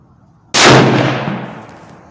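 A single loud .308 shot from a Savage Axis rifle firing Federal Fusion 165 grain ammunition outdoors, a sharp crack after a brief quiet, trailing off in a long fading echo.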